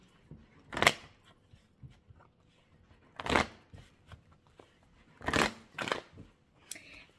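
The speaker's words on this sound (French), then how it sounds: "je tire également 5 cartes pour compléter ce message" Oracle cards shuffled and drawn by hand, four or five short papery riffling bursts with quiet pauses between, close and fairly soft.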